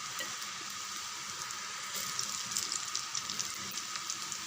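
Potato pakoda pieces frying in hot oil give a steady, fairly quiet crackling sizzle that grows busier with small bright pops toward the end, with no voices.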